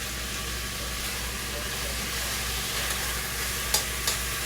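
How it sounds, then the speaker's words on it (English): Oxtails brown in a pressure cooker, a steady, even sizzle heard close and alone, with two brief clicks just before the end. "So we're just gonna just browning these."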